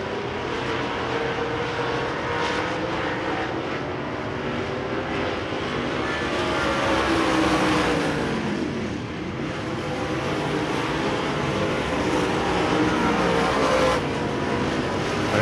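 USRA Modified race cars roaring around Devil's Bowl Speedway in a heat race, a dense, loud, continuous engine drone that swells and fades as the pack passes.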